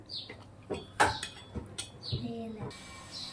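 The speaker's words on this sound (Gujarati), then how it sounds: "માખણ નાખ્યા પછી આપણે 1 મિનિટ આવી રીતે મિક્સ કરી દઈશું" A spoon stirs dahi onion curry with desi butter in a pan, making scattered light clinks and scrapes against the metal that are soft and close, with a few louder knocks and faint voices in the background.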